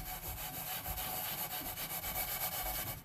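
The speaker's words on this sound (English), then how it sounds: "You just kind of scrub it in." Baking soda paste and water are scrubbed by hand over the metal of a 1950s Cord-O-Matic industrial light, making a quick rhythmic back-and-forth rubbing that is close and steady throughout.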